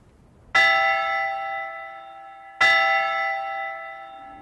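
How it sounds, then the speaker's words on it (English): A church bell rung for Vespers sounds twice, each loud clanging strike followed by a long ringing decay, with no voices. "Shall I ring the bell for Vespers?"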